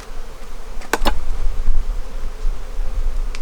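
Honeybees buzz steadily in an open hive ready for winter, a close, continuous drone with a couple of brief louder passes near the start.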